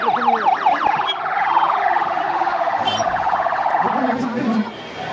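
An ambulance siren wails loudly at a crowded political rally in Karur, its rising and falling tones cycling steadily for several seconds over crowd noise and nearby voices.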